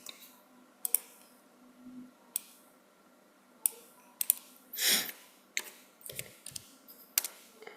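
Clicks and taps from a computer keyboard as commands are entered at a PC command prompt, arriving in short irregular bursts with pauses between, close and fairly quiet, with no one talking.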